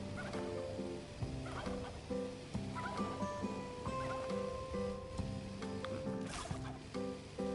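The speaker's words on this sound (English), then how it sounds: "These are my new turkeys, look. Beltsville." Beltsville turkeys gobbling in the farming video game Farm Together 2, with repeated bubbling gobble calls over a busy game soundscape of music and ambient water noise, steady and moderately loud.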